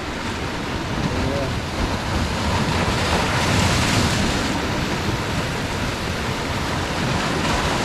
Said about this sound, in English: that's just tidal action with the waves coming in